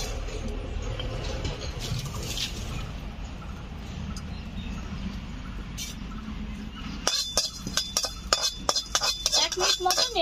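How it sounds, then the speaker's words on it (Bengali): A metal kadai is rinsed and scrubbed, first as a steady wash of running water and then as a run of sharp metallic clanks and knocks near the microphone. "কড়াইটা ধুয়ে নিচ্ছি"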